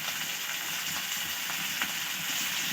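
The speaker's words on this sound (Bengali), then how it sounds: "একটু কষিয়ে নিচ্ছি" Ginger paste, cumin and turmeric sautéing in a pan for a fish curry, a steady soft sizzle with faint scraping ticks of stirring, close and alone without voices.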